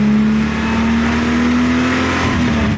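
Car engine held high near redline, a loud sustained mid-pitched roar that creeps slightly upward and then drops off abruptly at the end, with no voices.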